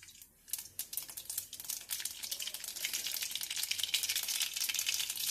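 Mustard seeds hit hot oil for tempering a sabudana snack, starting after a brief quiet moment and swelling into a steady, close, crackling sizzle that grows louder and denser.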